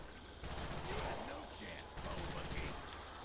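Rapid-fire assault rifle in Call of Duty Zombies on the Kino Der Toten map, sustained loud automatic bursts with a short break before firing resumes.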